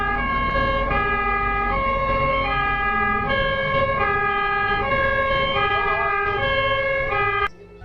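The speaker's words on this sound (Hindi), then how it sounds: "जो ही उनके कान में उसके सायरन की आवाज आती है" An ambulance siren on a highway wails in a steady repeating two-tone pattern, loud and close, with road traffic rumbling beneath and a sudden cutoff at the very end.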